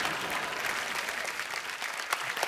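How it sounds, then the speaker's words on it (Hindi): A studio audience at a comedy talk show claps steadily and enthusiastically, a dense, even wash of applause that holds at full strength throughout, with a faint murmur of the crowd mixed in. "एक बार जोरदार तालियां।"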